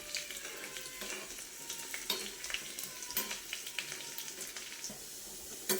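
Spices tempering in hot oil in a clay pot for a traditional Kerala fish curry, a continuous close sizzle and crackle with occasional sharper pops and stirring.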